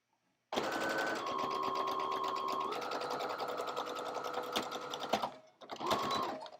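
A sewing machine runs steadily stitching shirt fabric, a continuous close whirring hum for several seconds that breaks off briefly, then resumes for a short final burst.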